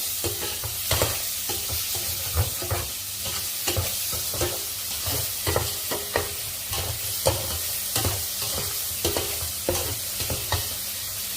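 Sour tomatoes fry in a pan with a steady sizzle, broken by regular clacking scrapes of a spoon stirring them, repeating at roughly one-second intervals throughout.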